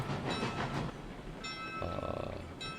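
A Cook 280 steam locomotive running in the RailRoads Online video game, a loud close rumbling chuff with rhythmic clanking and a thin whistle-like tone emerging partway through.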